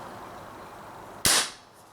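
An Umarex Marlin revolver BB pistol fires a single sharp, loud shot that cuts through quiet room tone and decays quickly, with no voices.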